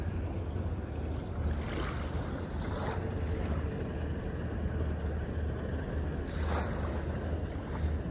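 Sea waves on a quiet beach in Ha Long, Vietnam, a steady wash of surf with a few louder breaking swells, under constant wind noise on the microphone.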